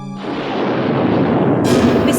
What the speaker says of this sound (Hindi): गवर्नमेंट उस मिटियोर को तोड़ने के लिए मिसाइल फायर कर रहा है।